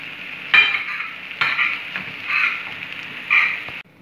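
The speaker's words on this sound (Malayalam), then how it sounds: "എന്നിട്ട് ഇതെല്ലാം കൂടെ നന്നായിട്ട് ഇളക്കുക." Egg roast masala with pepper powder, masala powder and salt being stirred in a pan, giving repeated scraping and sizzling strokes in uneven bursts, close and clear with no voices.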